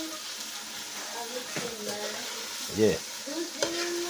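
A spoon stirs food in a hot frying pan over a constant sizzle, with a few distinct scraping strokes close by and a brief spoken word.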